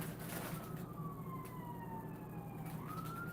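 A distant emergency siren wails in a long, slowly falling tone that then rises again, heard over a steady low background rumble.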